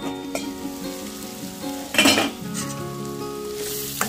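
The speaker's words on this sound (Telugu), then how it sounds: "దొండకాయ ఫ్రై అయిందో లేదో చూద్దాం" Ivy gourd (dondakaya) fries in a pan with a loud, steady sizzle, broken midway by a sharp clatter of a utensil being stirred against the pan.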